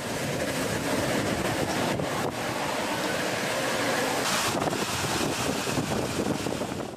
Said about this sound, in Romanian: Cu rafale de vânt de 240 de kilometri pe oră, furioasa Laura s-a dezlănțuit deasupra statelor Louisiana și Texas.